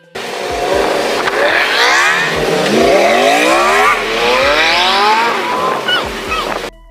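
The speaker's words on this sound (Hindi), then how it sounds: "जब लगातार एक के बाद एक कार सामने से निकल रही हो" Cars pass one after another along a road, each a loud rushing sweep of engine and tyre noise that rises and falls, overlapping almost continuously for several seconds.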